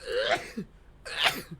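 Two sharp, breathy sneezes burst out one after another during a tabletop Dungeons & Dragons session, close and fairly loud, with a brief spoken word slipping in between them.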